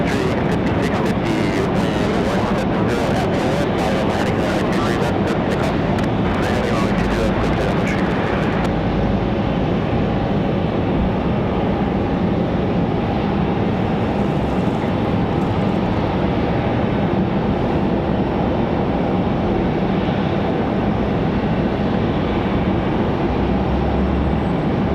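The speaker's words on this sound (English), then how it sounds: "We've got NetJets coming in next, Cessna Citation Latitude." Cessna Citation Latitude business jet operated by NetJets arriving at Raleigh-Durham International after a flight from Miami, a steady, loud, broadband engine roar sustained throughout, with a brief crackly rumble early on and no talking.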